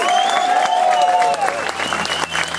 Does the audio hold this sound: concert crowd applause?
yes